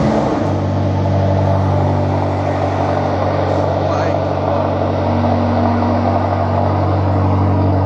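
Cold start of a race car with 20-inch front and 21-inch rear wheels, a loud, steady engine drone with strong low harmonics held continuously near the listener.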